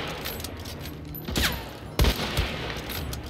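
A few loud gunshots in Hunt: Showdown crack out over low background ambience, one sharp report followed by a heavier close blast and a smaller echoing shot shortly after.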